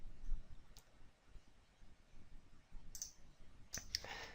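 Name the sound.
mouse click on the Attachments tab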